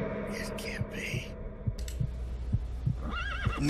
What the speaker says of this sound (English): is that literally the horse from MGS3?